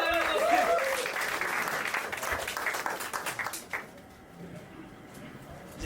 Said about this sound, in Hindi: जोरदार तालियों से स्वागत कीजिएगा